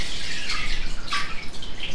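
Water drips and trickles from a paper-making frame just lifted out of a vat, a close, brief patter of droplets falling back into the water.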